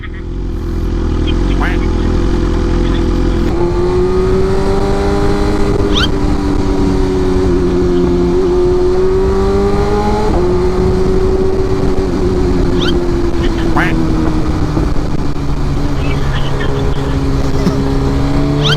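A big bike motorcycle idling and revving while carrying passengers, its steady droning engine rising and falling in pitch, loud and close throughout, with people talking over it.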